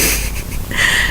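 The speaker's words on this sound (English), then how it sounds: "What you're hearing now is her son blowing his nose." A person blows his nose indoors with a brief loud snorting, wheezy burst close to the microphone.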